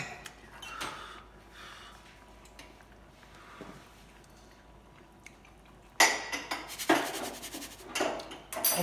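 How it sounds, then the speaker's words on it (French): A small spoon stirs sauce in a cooking pan, giving faint, soft scraping and light clinks that turn louder and busier toward the end. "La sauce, on continue de la faire tourner."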